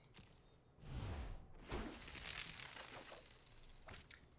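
Shatter the Sky being cast in Magic: The Gathering Arena, a digital card game: a whooshing rise followed by a loud glassy shattering burst with sparkling high debris that rings on and fades over several seconds.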